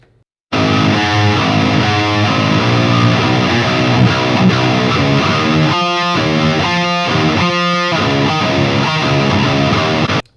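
Heavy metal rhythm guitar riff through the Neural DSP Granophyre amp plugin, dense and distorted with tight palm-muted chugs and choppy stop-start accents, loud and continuous without any voices.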